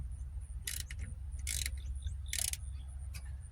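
A ratchet with a swivel socket loosens a bolt during timing belt work on a 1995–2001 Ford Ranger 2.5 engine, giving three short, sharp ratcheting bursts at fairly even intervals over a low background hum.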